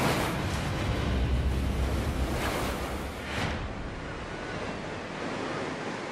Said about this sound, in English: Huntington Beach, south of Los Angeles, is famous for the waves crashing in from the Pacific.